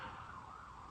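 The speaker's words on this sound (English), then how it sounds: "Sorry about the sirens." A wailing emergency siren holds a steady, rising-and-falling tone over low traffic rumble, fairly close and continuous.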